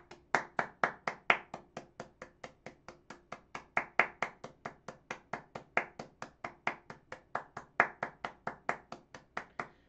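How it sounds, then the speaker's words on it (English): Steady rhythmic clapping, sharp evenly spaced claps that sound like a small group or a single pair of hands, loud and close with no talking. "let's give this man a round of applause"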